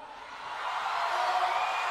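A distant crowd at a political rally shouts and cheers in a sustained roar that grows slightly louder, with no clear individual voices.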